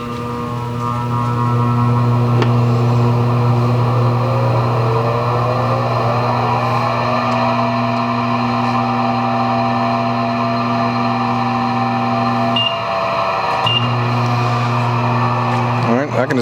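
A VL 65 DSP LX Premium wheel balancer spins a mounted wheel with a steady loud motor drone and hum. The tone dips briefly near the end as the foot brake is pressed, then resumes.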